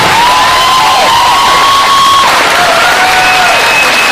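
Audience applause and cheering fill a crowded convention panel at DragonCon, a loud, continuous ovation with a few whoops rising above the clapping throughout.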